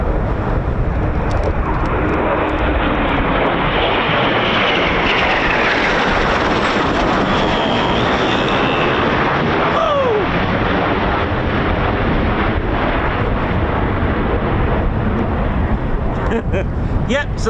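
Eurofighter Typhoon FGR4 jets flying past at RAF Coningsby, a loud continuous thunderous jet roar that stays heavy and close throughout, with a whining pitch sweep near the middle.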